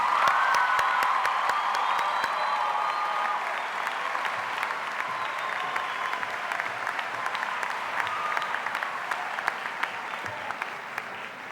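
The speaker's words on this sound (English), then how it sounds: "let's give them a big round of applause" A high school commencement audience applauds steadily, with a dense, even mass of clapping that holds strong throughout and thins only slightly toward the end, plus faint cheers mixed in.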